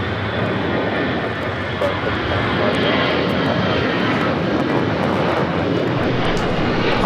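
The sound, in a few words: airplane taking off from runway 25 right at LAX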